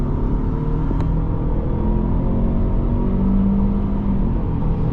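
2010 Toyota Camry LE with the 2.5 engine pulling hard from a standstill, heard from inside the cabin: a loud, continuous low engine rumble and road roar that holds steady and rises slightly in pitch.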